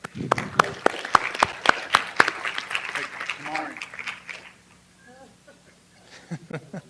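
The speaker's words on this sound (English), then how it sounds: "Clap it up." Short bursts of scattered, close hand clapping ring out at a school district board meeting, then fade into voices talking.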